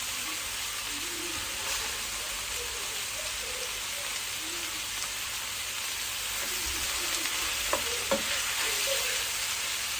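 Liver fries in a pan with a constant dense crackle and hiss like light rain, a few sharper pops and stirring taps near the end, heard up close with no talking.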